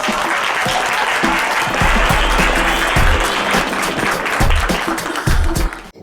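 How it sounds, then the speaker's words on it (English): An audience at a poetry performance applauds loudly and steadily for about six seconds, a dense wash of clapping that thins out at the very end. "Round of applause!"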